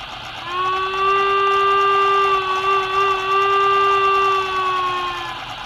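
A steady, sustained whistle-like steam tone with bright harmonics from an Sn3 model Baldwin RGS rotary snowplow, holding for about five seconds before fading, with a faint hiss beneath.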